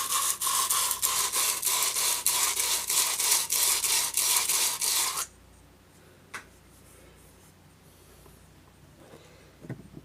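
Abrasive sanding on a metal Magnum 325 ATV axle hub: a steady, loud rasping scrub in quick strokes that runs for about five seconds, then stops abruptly, leaving faint scattered clicks and handling noises.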